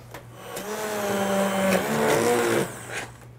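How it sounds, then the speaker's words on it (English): A blender pureeing roasted eggplant black bean soup, a close motor whine that rises and shifts pitch for about two seconds and then stops, with no talk. "we'll just come over here and puree this soup"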